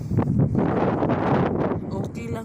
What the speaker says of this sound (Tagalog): Mahangin sobra.